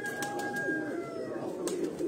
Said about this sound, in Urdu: فاروق اعظم خان کا 5واں کبوتر جو ہے وہ بیٹھنے کے نزدیک ہے